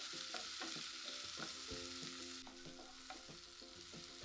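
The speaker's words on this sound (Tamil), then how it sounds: "ஒரு தக்காளியை நல்லா வெட்டி அதையும் நல்லா வதங்க விட்டுடலாம்" Chopped tomato sautés in a pan for squid thokku, a continuous close sizzle with rhythmic scraping strokes of a spoon stirring, no voices.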